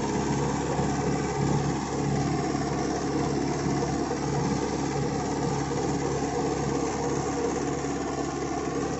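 A Mahindra 575 XP Plus tractor drives a 7-foot rotavator, its engine running in a steady, loud drone with a churning mechanical rumble that holds constant throughout.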